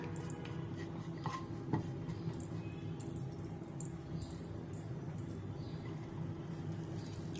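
Food sautéing in a pan with steady stirring, a continuous close frying rustle with a few light utensil taps against the pan, no talking.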